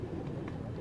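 A Slate Qaidi pigeon gives a brief, low, soft coo, close by, with faint background noise and no speech.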